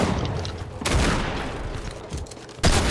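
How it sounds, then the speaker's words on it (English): Gunfire in Fortnite, bursts of rapid shots with a loud volley at the start, another around a second in and a sharp burst near the end, close and dense. "I'm getting shot out of nowhere"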